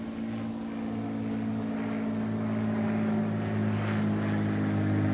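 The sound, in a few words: airplane flying overhead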